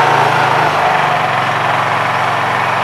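A Honda EU3000is inverter generator runs steadily in eco mode powering a heater, a loud, even engine drone with no breaks and no talking.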